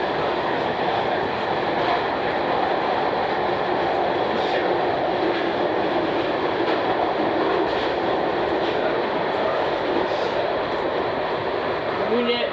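A WMATA 6000 series Alstom Yellow Line metro train rides along the track, giving a steady broadband rumble and rush of wheels and car noise from inside the carriage, continuous and loud throughout.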